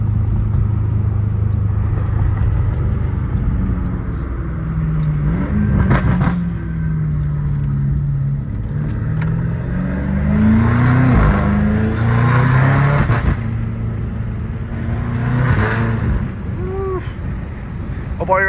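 A BMW M5 Competition engine rumbles and revs loudly in waves for a long stretch, with sharp gunshot-like popping bursts from the exhaust and wind buffeting the microphone.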